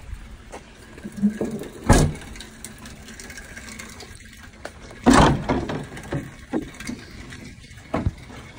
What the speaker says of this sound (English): And then I can pop the hood.